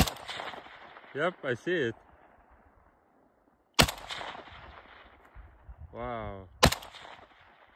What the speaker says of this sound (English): I'm gonna shoot the dead tree right there.